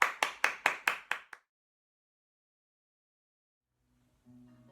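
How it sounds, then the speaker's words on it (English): Six sharp, evenly spaced claps from a small children's dance class, close and crisp, followed by silence and then faint music. "Can we have a nice big round of applause?"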